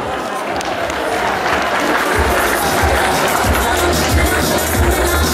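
Audience applause at the Queen of the Roses pageant in Karlovo, a dense, steady wash of clapping from a large crowd with low rumble and some voices mixed in throughout.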